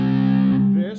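A distorted electric guitar chord rings out, thick and sustained with dense harmonics, holding steady for most of a second before sliding and fading at the end.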